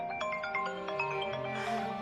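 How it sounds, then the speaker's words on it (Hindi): A melodic electronic phone ringtone plays a quick sequence of bright tones, steady and moderately loud with no voices. "फोन आ रहा है, क्यों नहीं उठा रही?"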